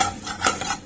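A metal utensil scrapes and clinks several times against a pan while tomato is stirred over a raised flame, close and fairly loud, with no talking.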